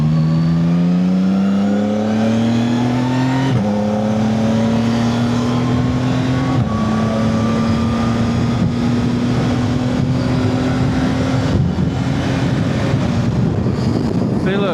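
Engines at an outdoor car show on grass drone and rise in pitch, heard from a passing motorcycle (a CF Moto 750SR) with strong wind buffeting the microphone and no clear speech.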